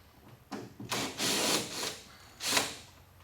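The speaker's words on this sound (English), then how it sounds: "Hate this drill. Comes loose." A power drill that keeps coming loose, used while fitting rear wheel flares on a 1976 Trans Am, whirring in several short close bursts with brief pauses between.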